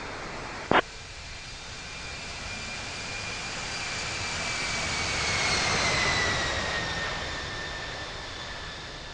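Jet airliner engines roar at Salt Lake City Airport, a steady loud rumble that swells to a peak and fades as the plane passes, with a short sharp click near the start.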